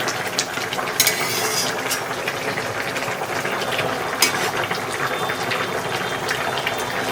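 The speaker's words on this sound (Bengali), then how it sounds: "টকবক করে ফুটছে একদম গরম গরম" Potato and cauliflower curry with rohu fish boiling in a pot, a steady close bubbling and sizzling texture running throughout with a few brief louder pops.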